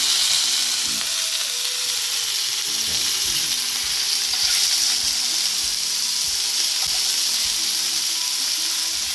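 Half-cooked grilled Chicken Afghani moved into a pan over lowered heat, sizzling and frying steadily and loudly up close, with a few soft stirring and shifting knocks.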